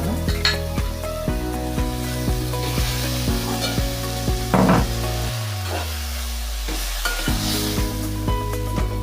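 Chopped tomatoes sizzling steadily in a hot pan while a spoon repeatedly scrapes and stirs them, the metallic strokes coming close and regular above continuous frying crackle.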